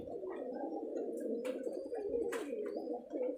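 A female Giribaz high flyer pigeon from a local Rajshahi loft coos in a low, continuous warbling drone close by, broken by two brief sharp rustling bursts.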